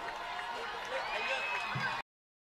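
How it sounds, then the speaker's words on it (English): Spectators at a Westlake versus Mater Dei high school football game make a rising wash of crowd noise and cheering, fairly faint and distant, with a voice talking over it, cutting off abruptly after two seconds. "Westlake crowd starting to make some noise."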